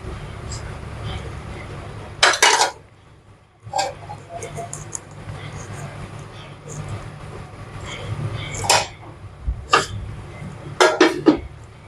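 Mutton dum biryani rice served from a pot onto a plate with a ladle, heard as sharp metallic scrapes and clanks at intervals under ongoing talking and background rumble.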